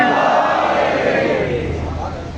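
A religious majlis gathering answers with a loud collective chanted Haidari slogan, a burst of many voices shouting together close by that swells and then tapers off over about two seconds.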